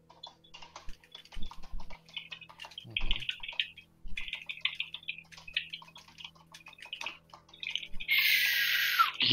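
Seagull creature in the World of Warcraft dungeon Eye of Azshara (Mythic+ 20) gives short bird-like squawks over steady keyboard tapping, ending in a loud, harsh burst of game effects.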